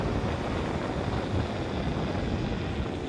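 Steady, loud wind buffeting the microphone while riding a scooter at 40 km/h, a constant broadband rush with no speech, captured on Ray-Ban Meta smart glasses.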